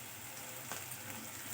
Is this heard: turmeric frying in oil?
yes